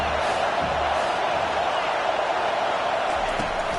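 A home crowd at a college football game in a video game roars as a dense, continuous wash of noise, loud and unbroken throughout.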